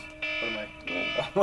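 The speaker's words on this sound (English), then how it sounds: "That's the alarm." A phone alarm beeps in two steady electronic pulses, moderately loud indoors, while a person speaks briefly near the end.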